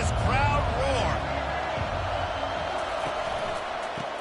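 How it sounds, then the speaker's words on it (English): Broad roar of a football stadium crowd, loud and sustained at first, then easing slightly but staying as a dense wash of noise throughout, with a brief whistle-like tone early on. "listen to this crowd roar"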